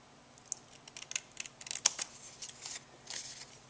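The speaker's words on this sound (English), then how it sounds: "We're going to cut these side rectangles off," Scissors snip paper rectangles off a small paper craft piece, a quiet string of short crisp cuts and rustles heard close up, with no voices.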